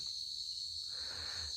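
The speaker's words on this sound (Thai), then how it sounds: "เชื่อว่าทุกๆคนน่าจะได้ยินเสียงจิ้งหรีดร้องกันนะครับ" Crickets chirp in a continuous, high, steady trill in a forest by a cassava field in late rainy season. The sound stays faint and even throughout, with no voices.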